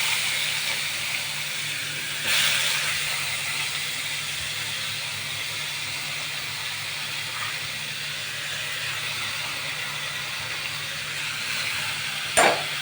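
Onion dropped into hot oil with mustard seeds and curry leaves, giving a continuous steady hiss and sizzle with a brief louder burst near the start and another near the end.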